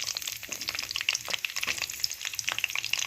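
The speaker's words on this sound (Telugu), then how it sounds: "పచ్చిమిరపకాయలు వేగాలి ఒకసారి." Green chilies fry in a pan for a brinjal and capsicum dish, a constant crackling sizzle with quick, busy spatters and occasional stirring scrapes running throughout.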